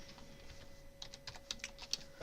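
Computer keyboard typing during a web search, a quick run of crisp clicky keystrokes close by, sparse at first then denser, over a faint background hum.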